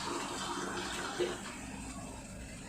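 Steady splashing of half a glass of water poured into a pan of baby corn manchurian, a soft continuous rush with a brief brighter gurgle partway through.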